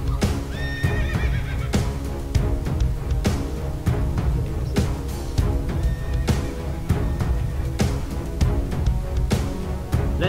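Several horses neigh and whinny in a video game battle over steady clip-clopping hooves, loud and busy, with no voices.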